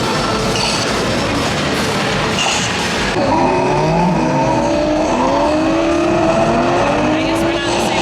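Racing arcade cabinets in a Florida arcade and entertainment center, with roaring engines and rising revs over a steady crowded hum of machines and chatter, and the revving climbs and repeats in the second half.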